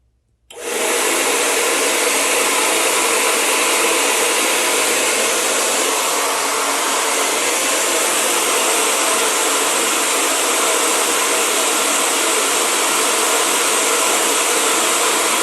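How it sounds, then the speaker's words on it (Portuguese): A hair dryer, switched on by a KTO 011 panel thermostat, kicks on abruptly after silence and then runs as a loud, steady whooshing blower roar for the rest of the clip, close and alone. "ele vai ligar o secador novamente"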